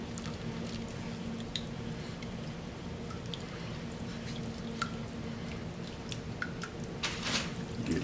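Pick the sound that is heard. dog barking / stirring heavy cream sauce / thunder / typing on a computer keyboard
stirring heavy cream sauce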